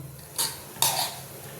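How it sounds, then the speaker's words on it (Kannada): Boiled sprouted horse gram tipped into a simmering pot of sambar, giving two quick soft splashes with a clink of metal on the vessel, close and brief with no talk. "ಈಗ ನಾನು ಕಾಳನ್ನು ಬೆಂದಿರ್ತಕ್ಕಂಥ ಕಾಳನ್ನು ಹಾಕ್ತಾ ಇದ್ದೀನಿ ನೋಡಿ"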